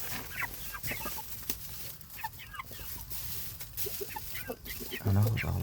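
Rooster and chickens in a coop give scattered clucks and short calls at moderate distance under steady background noise, with a louder squawk near the end.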